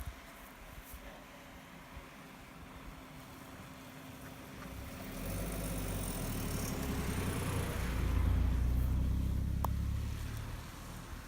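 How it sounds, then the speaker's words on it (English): A car approaches and passes on a quiet country road during a walk, its engine and tyre noise swelling from faint to a close rumble before easing off, with outdoor ambience and no talk. "Oh, there's another car coming."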